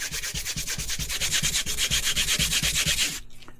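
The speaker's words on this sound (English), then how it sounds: "You don't want to sit there and watch me sand this whole thing." Old gasket material is sanded off the flat mating surface of a 100-year-old carburetor in quick back-and-forth rasping strokes, a close, rhythmic scratching that stops abruptly near the end.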